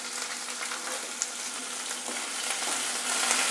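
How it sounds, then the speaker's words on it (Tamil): Finely chopped onions frying in oil in a pan for village-style pepper chicken, a dense continuous sizzle with crackling pops, close and steady, with no talk. "நல்லா வெங்காயம் நல்லா வதங்கணும்."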